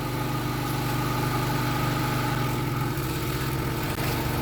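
A SkyVac gutter vacuum runs at a steady, dense roar with constant motor drone and rushing air, loud and close without a break.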